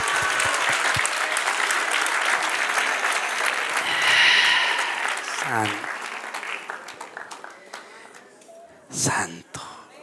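Congregation in a church service clapping, a loud sustained burst of applause that thins out and fades, with voices and a brief vocal sound in the crowd.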